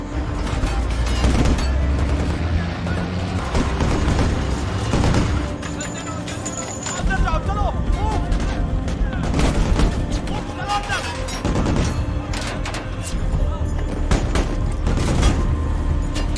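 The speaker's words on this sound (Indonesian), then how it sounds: "setelah mendapatkan instruksi dari Masruri, seluruh pasukan cepat tanggap maju serentak dan baku tembak pun kembali terjadi." Gunfire exchange in a war film battle scene where United Arab Emirates troops rescue soldiers: loud, dense bursts of rifle and machine-gun fire mixed with heavy booms, continuing almost without pause throughout.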